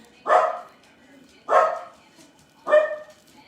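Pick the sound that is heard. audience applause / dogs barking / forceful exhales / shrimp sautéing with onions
dogs barking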